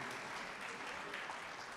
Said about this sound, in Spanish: Damos un aplauso a Dios